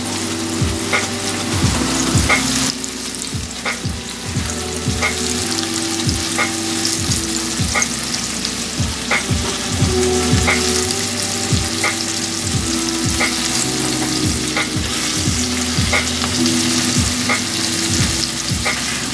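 Chicken for homemade orange chicken frying in hot grease in a pan, a steady close crackling sizzle with occasional stirring scrapes and taps throughout, no voices.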